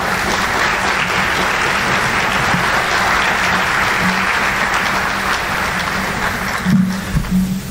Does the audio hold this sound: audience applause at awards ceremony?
yes